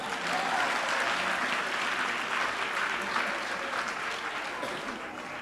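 A church congregation bursts into sustained applause acclaiming the Lord, a dense, even wash of many hands clapping at once, with some voices mixed in beneath it.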